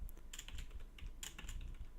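Someone types code on a computer keyboard in Visual Studio: quick, irregular clicky keystrokes in short bursts, close and fairly quiet, with no speech.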